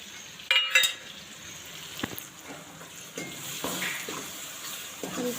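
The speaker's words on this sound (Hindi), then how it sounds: "और इसको भी हम अच्छे तरीके से भून लेंगे।" Tomato, potato, salt, coriander, chili, garam masala and amchur fry in a kadai, a soft, close sizzle broken by scraping stirs and a few sharper clanks, with no talk.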